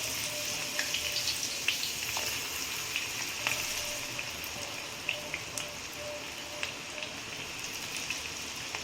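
Spinach pakoda batter frying in hot oil, a steady close sizzle with scattered small pops and crackles throughout, no voices.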